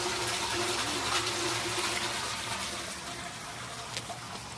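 Water flowing outdoors in a wooded area on a trip to the town of El Hajeb, a steady, full rushing and gurgling wash that carries on without break, fairly loud and close.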